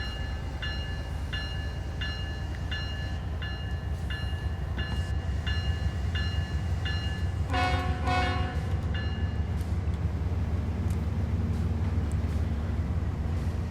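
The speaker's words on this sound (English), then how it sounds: "I'd say that's our manifest train right there" A freight train in Train Sim World 3 on Cajon Pass sounds its horn in a string of repeated blasts, ending in one longer call over a steady, rumbling rail bed.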